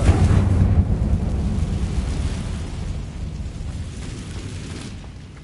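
A Confringo fire spell explodes in the Hogwarts Legacy video game: one deep, rumbling boom that starts loud and slowly fades over several seconds, with no voices.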